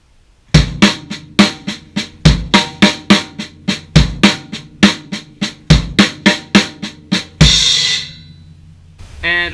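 Drum kit plays a slow RLRLLK lick that starts on the kick drum, crisp evenly spaced hand strokes and kick hits repeating in a steady loop, ending with a ringing crash.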